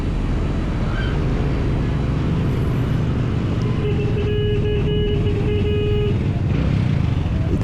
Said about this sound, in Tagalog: Dito naman yung isa sa pinaka-traffic na lugar dito sa Taguig.